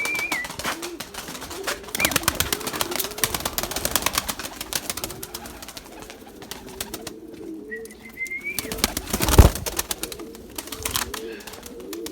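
Pigeons in a loft give repeated soft, throaty coos, several birds overlapping close by, with a brief louder knock and faint voices in the background.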